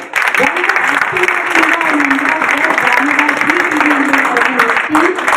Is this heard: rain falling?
no